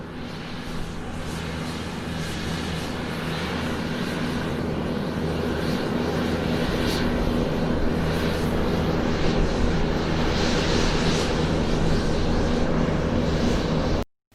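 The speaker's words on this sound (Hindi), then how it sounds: "मंगल ग्रह की आवाज़।" A sonified space recording presented as the sound of Mars: a dense, loud, unbroken roar with a low rumbling drone, cutting off abruptly at the end.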